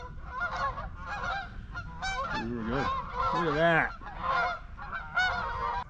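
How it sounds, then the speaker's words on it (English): Geese honk repeatedly and loudly nearby, a flock overhead or close by at a truck campsite, with a person briefly talking over the calls. "We're being overrun by the goose."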